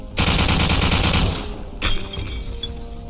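Automatic gunfire in the Phantom Doctrine video game, a loud sustained burst of rapid shots followed by a second sharper volley and fading echoes, with no talking.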